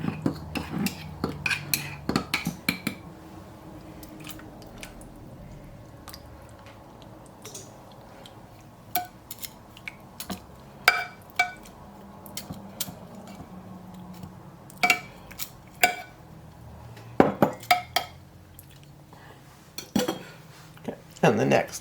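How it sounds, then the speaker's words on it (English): Whole canned tomatoes being cut up inside a metal pot, with sharp clinks and taps of a utensil against the pot in irregular bursts over quiet kitchen background, near and clear. "since I canned them whole, I am going to cut them up a little bit before I put them in"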